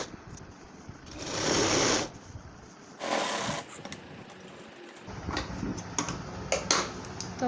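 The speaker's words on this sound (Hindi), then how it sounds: "इसको भी हमें इसी तरीके से सिलाई करनी है" A sewing machine stitching petticoat panels, running in short motorized bursts with pauses between, close and steady, with light clicks and handling noises and no talk.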